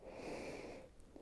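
A single deep breath in during a beginner yoga stretch, a soft airy inhale close to the mic that fades toward the end, with no talk.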